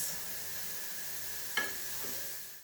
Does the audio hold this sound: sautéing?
yes